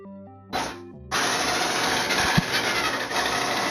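Traxxas X-Maxx RC car motor whirs steadily at low throttle, starting with a brief burst and then settling into a sustained, close electric drone with a faint thump midway.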